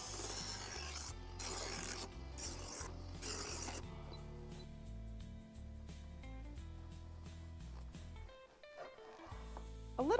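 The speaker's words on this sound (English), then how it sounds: "I think I'm gonna set it to speed 3 and maybe just go back through the fine grinding and polishing." A kitchen knife drawn through an electric knife sharpener set to speed 3 for fine grinding and polishing, giving several loud rasping bursts up close, followed by a quieter motor whir.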